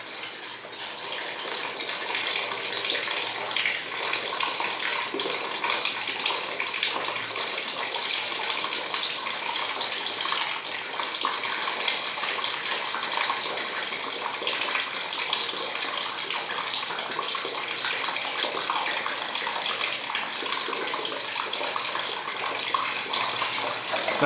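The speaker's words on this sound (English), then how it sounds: "So let's open the tap again." Water gushes steadily from an opened tap in a water level controller setup, a continuous close hiss and splash lasting throughout with no talking.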